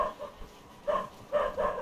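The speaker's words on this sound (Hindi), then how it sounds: "भाई ये कुत्ते क्यों भोंक रहे हैं?" Dogs bark at a distance in the Red Dead Redemption 2 western video game, a few faint, short barks over a low ambient background.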